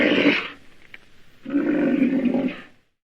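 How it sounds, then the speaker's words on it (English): A rhinoceros gives two rough, breathy snorting bursts separated by a short pause, close and fairly loud, with no voices. "Correct. It's a rhinoceros."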